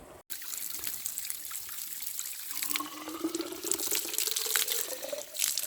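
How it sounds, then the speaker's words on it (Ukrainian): Water from a Carpathian mountain spring trickles and splashes steadily as a container is filled, a close, continuous running-water sound with no talking. "під'їжджаємо до джерела карпатських вод. Будемо набирати водичку."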